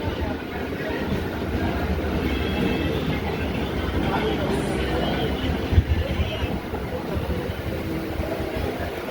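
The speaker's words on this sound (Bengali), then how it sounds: "ট্রেন ছেড়েছিল 5:07 শ্যামনগর থেকে।" A suburban passenger train rolls into Naihati junction, a loud steady rumble of wheels and carriages with a brief clunk midway and voices talking beneath.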